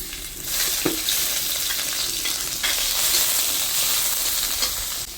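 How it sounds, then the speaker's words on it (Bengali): Prawns fry in mustard oil in a hot wok, making a strong, continuous sizzling hiss with a few stirring scrapes, close and loud without any talk. "কড়াই গরম হয়ে গেছে, দিয়ে দেবো একটু সরিষার তেল চিংড়ি মাছটা ভাজার জন্য।"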